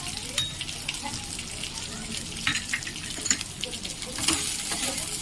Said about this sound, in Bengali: আর তার সাথে দিয়ে দেবো এই ক্যাপসিকাম কুচি। খুব ভালোভাবে ভেজে নিতে হবে।